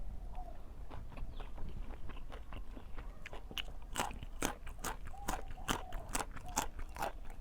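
Someone eats a boiled egg up close, with soft repeated bites and moist chewing clicks spread through the clip, growing denser toward the end, with no talk.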